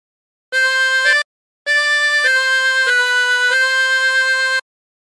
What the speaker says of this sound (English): practice this until you end up with something that sounds like this